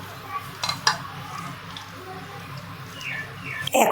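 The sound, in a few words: duck eggs being put into a wok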